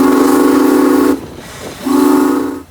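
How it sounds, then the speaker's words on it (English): A steam train at a zoo or amusement park gives two loud, close whistle blasts with a brief hissing gap between them, steam escaping as it prepares to depart. "the train's cylinders started to leak steam just like they would on any normal departure"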